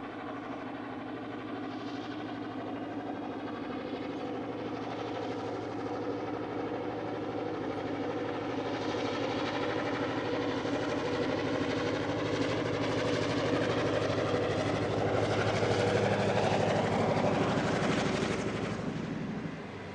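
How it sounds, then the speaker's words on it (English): A 70-year-old EMD streamliner diesel locomotive labors up a 1 in 46 climb to Bridgewater, South Australia, with a deep, throbbing drone that swells gradually, steady and heavy, with no voices. "the engine working hard on the 1 in 46 climb to Bridgewater"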